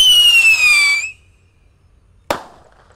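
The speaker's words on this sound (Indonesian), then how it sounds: "Sudah menyala, roket siap meluncur." A shrill whistling rocket screams upward for about a second, then silence, followed by a single sharp bang in the distance.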